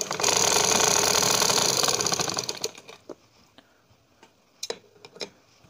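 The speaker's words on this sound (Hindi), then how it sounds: "अब मैं इस पर लगा लूँगी सिलाई" A sewing machine stitching fabric runs loud and steady for about two and a half seconds, then winds down and stops, leaving a few scattered clicks and light handling taps.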